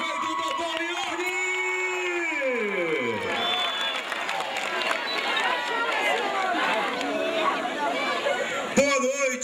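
A crowd applauds the mayor at a city anniversary ecumenical festival, with clapping mixed with cheers, whoops and loud voices across the whole stretch.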